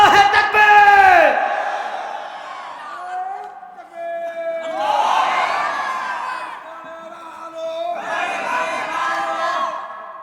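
A crowd at a Bangla religious sermon chants the takbir, Allahu Akbar, in three loud unison bursts, each following a leader's call-out and separated by short pauses.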